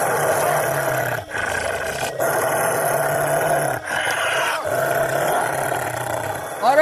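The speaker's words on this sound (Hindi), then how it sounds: "तभी वह भेड़िया जोर जोर से गुर्राने लगता है" A wolf growls loudly in a Hindi horror story, a continuous rough roaring snarl that runs for several seconds with brief breaks, close and dominant, layered over a dense dramatic soundscape.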